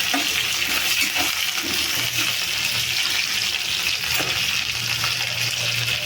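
Curry leaves hit hot mustard oil with chicken masala, giving a close, loud, continuous sizzle and crackle with faint stirring scrapes throughout and no talking.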